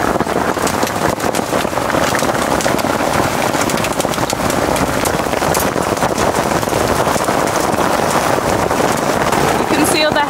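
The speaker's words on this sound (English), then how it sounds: "the hailstones that are coming down now are about the size of marbles" Marble-sized hailstones pelt a vehicle in a dense, continuous rattling patter, loud and close, with wind buffeting the microphone.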